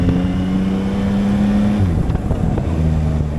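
A Yamaha MT-09 motorcycle pulls away in first gear, its engine a loud steady drone that holds, dips and then rises again in pitch close by, with continuous road and wind noise.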